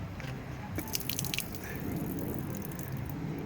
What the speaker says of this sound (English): All that water made its way into the intake.